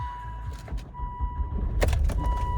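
A 2.0 diesel Volvo V50 D S cranks and fires into life with a rumbling burst, preceded by key jangling and a steady dashboard chime tone inside the cabin.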